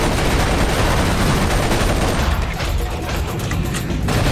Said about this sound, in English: you can shoot the missiles in the air